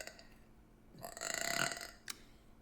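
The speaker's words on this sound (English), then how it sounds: "let y'all hear right here of me burping while I'm trying to do my Instagram reel" A single drawn-out burp from a person, close and fairly quiet, swelling and fading over about a second with a short click after.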